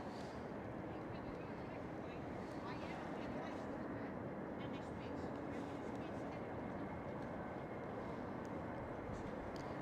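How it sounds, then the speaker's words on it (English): A KLM Cityhopper Embraer E190 passes at Schiphol Airport, giving a steady broad jet roar mixed with wind rumble, heard from a distance outdoors. "That is a KLM City Hopper. With the E190."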